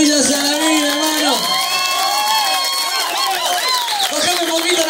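A festival crowd at a brass band show in Ramón Castro, Neuquén, cheers and whoops loudly, with shouting voices and some clapping over a dense, close roar of excited people.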